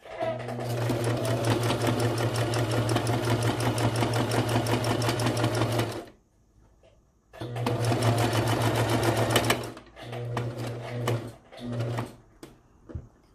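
A sewing machine runs in long steady bursts while straight-stitching a baby bandana bib, loud and close, with a pause and then shorter start-stop runs toward the end.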